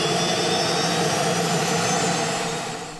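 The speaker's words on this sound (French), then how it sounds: "Embarquement en tandem et décollage" A skydiving plane's engine drones loud and steady at boarding and takeoff for tandem jumps, a dense continuous roar filling the whole stretch and easing slightly at the end, with no voices.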